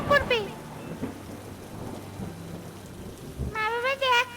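Steady rain falls with low, dull rumbles of thunder in a storm, and cartoon-like voices speak briefly at the start and the end.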